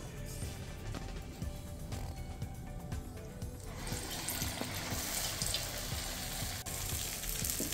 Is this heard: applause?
no